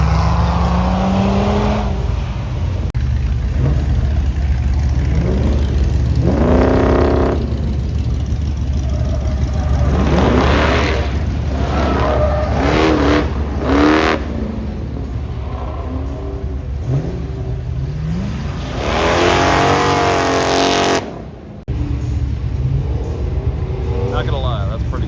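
Minivan / El Camino hybrid car racing on an autocross course, repeated engine revs rising and falling as it accelerates and brakes through the course, heard from the sidelines with people talking throughout.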